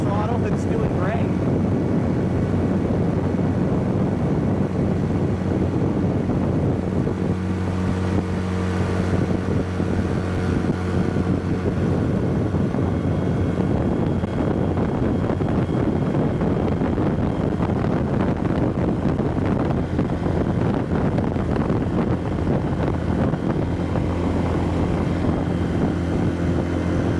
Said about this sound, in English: It's hitting the rev limiter, so I'm going to back it off a little bit.